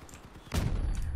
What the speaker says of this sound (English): very narrowly avoided cannon shot there